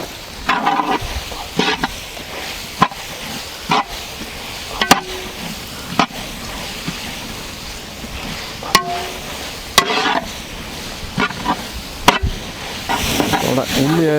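Shallots sautéing in a pan with rock salt for Kerala-style beef curry: a soft continuous sizzle broken by sharp, irregular spatula clacks and scrapes against the pan, heard close.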